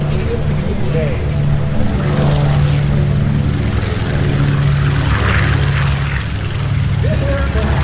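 A B-25 propeller bomber on its takeoff roll, its piston engines giving a loud, steady droning roar with a constant low hum that holds throughout without fading.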